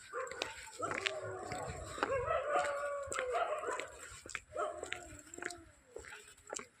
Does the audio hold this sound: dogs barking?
yes